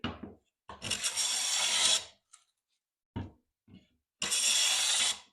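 Veritas No. 6 hand plane pushed across the faces of a wooden board, giving long, loud, close shearing strokes separated by pauses, with a few shorter scrapes and knocks between the passes.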